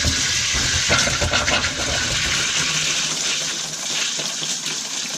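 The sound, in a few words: hot water running from RV tap, air in lines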